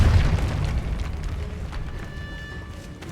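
A spell-cast explosion in Hogwarts Legacy, a deep booming burst at the start that rolls off into a lingering rumble and crackle, with faint magical tones fading behind it.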